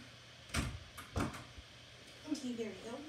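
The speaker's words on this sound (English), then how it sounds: "let me just shut the door" An indoor door being shut at home: a couple of sharp, close thumps and clicks of the door closing, followed by a voice talking.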